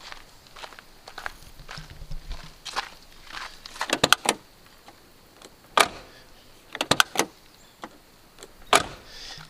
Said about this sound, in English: Let's go around and try the driver's door.